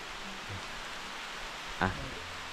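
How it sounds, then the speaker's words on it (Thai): Heavy morning rain falling on leaves and ground by a forest stream, a dense steady patter with a brief louder knock near the end. "ตกเยอะมาก เราต้องทำไงเนี่ย แต่ยืนตรงนี้ไม่ค่อยโดนฝนนะ"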